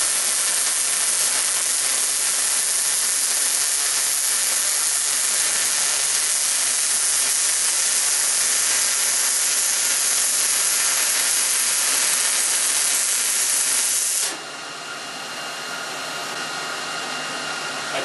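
A welder runs on a wire rack for rabbit pens, giving a loud, steady, unbroken hiss and crackle for about fourteen seconds before cutting off into quieter background noise.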